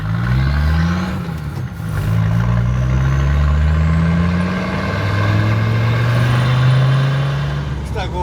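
A truck's engine runs with its gearbox whining, a loud close drone with rising and falling pitch as it pulls and shifts, with people talking over it.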